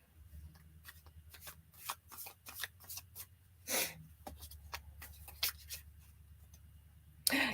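Gilded tarot cards being shuffled by hand, a rapid run of crisp papery riffles and slaps at close range, with a low steady hum underneath and a sharper knock at the end.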